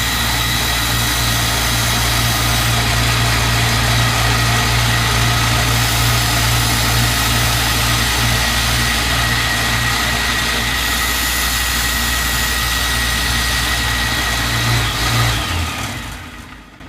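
A belt grinder with a 400 grit belt sharpening a knife, producing a loud, continuous motor drone with a steady tonal whine that holds throughout before winding down at the end.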